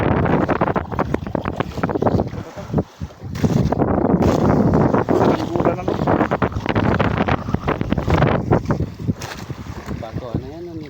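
Strong north wind buffeting a small fishing boat at sea at night, a loud continuous roar of gusts and water noise with talking voices over it.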